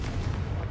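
Confringo fire spell blasting in Hogwarts Legacy: a dense, sustained low rumbling burst that stays loud throughout, with no talk over it.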